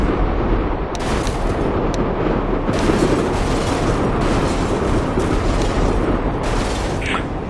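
A C4 charge detonates in a zombie shooter game on the Gasdump map, heard as a sustained, dense roar of explosive rumble that fills the whole stretch without clear separate blasts.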